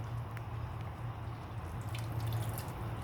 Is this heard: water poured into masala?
yes